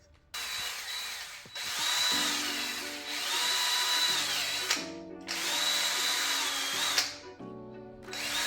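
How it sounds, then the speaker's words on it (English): A drill spins a wire brush against engine bay dirt in three long, loud bursts, its whine dipping and rising as the brush bites, with short pauses between runs. "you see me use the wire brush"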